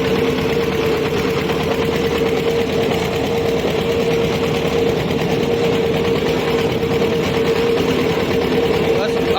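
Tractor engine running steadily while driving on a rural road past farm fields, a loud continuous mechanical drone with a steady hum, close and constant throughout.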